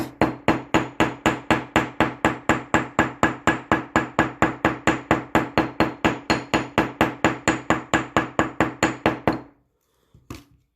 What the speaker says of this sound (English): Now I'm not hammering very hard because we only want to do it a slight bit.